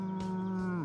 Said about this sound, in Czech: Krávy bučí různými akcenty podle toho,